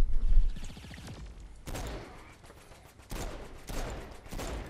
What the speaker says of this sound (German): Ah, ich werde angeschossen.